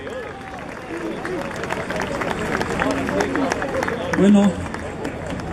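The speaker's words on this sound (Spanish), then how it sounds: "El aplauso fuerte." A crowd applauds at a ceremony honouring musicians from Ayacucho, with a dense patter of clapping running under a voice speaking over it.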